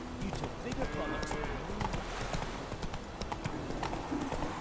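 Geralt's horse Roach gallops in The Witcher 3, a steady rapid clip-clop of hooves with an occasional whinny, continuous and close, with game music and sounds underneath.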